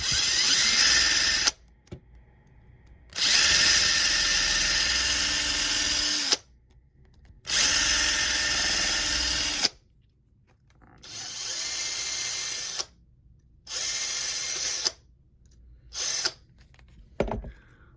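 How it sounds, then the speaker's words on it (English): A power drill whines in repeated bursts of several seconds each, separated by short silences, loud and close, drilling out a stripped screw. "I'm probably gonna have to drill it down a little bit more to break through."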